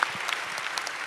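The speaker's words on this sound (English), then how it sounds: "another round of applause for our wonderful, wonderful panel" An audience at a business panel session gives a brief round of applause, a short, even burst of clapping heard at moderate level.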